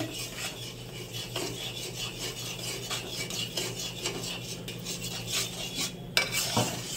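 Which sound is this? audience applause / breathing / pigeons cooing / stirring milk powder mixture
stirring milk powder mixture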